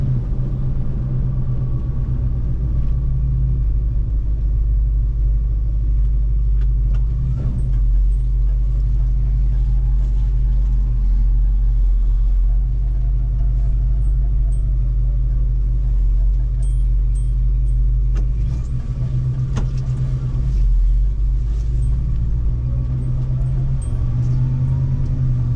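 A 1976 Ford F250 Highboy truck cruising at higher road speed, its engine and drivetrain giving a loud, steady low rumble with continuous road and wind noise close around the cab.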